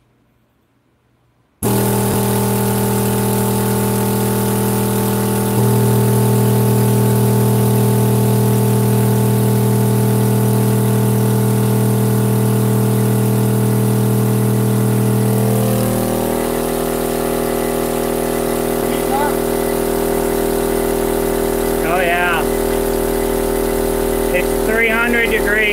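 A 40 Hz test tone drives a high-power amplifier under dyno testing, a steady loud low hum with strong harmonics that holds for about fifteen seconds before shifting; brief voices and clicks come in near the end.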